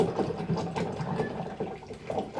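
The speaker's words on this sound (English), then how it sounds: "I'm going to wash my brush" A paintbrush swished and rinsed in a water cup during an acrylic painting class, a continuous close sloshing, rattling wash with small knocks, no speech.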